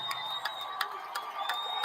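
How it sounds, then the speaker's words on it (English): A basketball crowd at a Chicago Sky game sends up a distant, sustained roar of cheering as a player checks in, a faint steady swell with a few sharper accents. "big ovation from the crowd"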